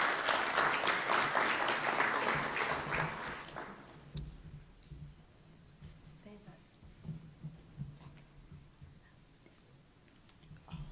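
Audience applause at the official opening of a university teaching and learning week as the keynote speaker comes on stage, loud clapping for about four seconds then fading to scattered claps and quiet room noise.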